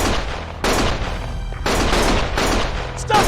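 Sustained gunfire in the action game Lost Judgment, dense overlapping volleys of loud close shots forming a nearly continuous roar with abrupt surges.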